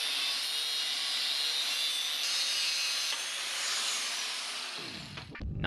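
A continuous, loud abrasive cutting hiss as a cap is cut off a sand-filled steel tube on a V8-powered pro touring Triumph GT6 build, ending in a brief low clatter near the end.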